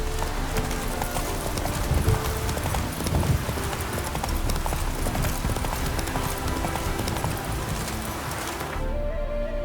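Hooves of Roach, a horse in The Witcher 3, pound in a fast continuous gallop, loud and close, with rustling and wind layered over the rhythmic beats until it ends near the close.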